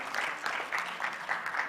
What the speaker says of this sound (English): let's wake everyone up this afternoon with a loud applause for our speakers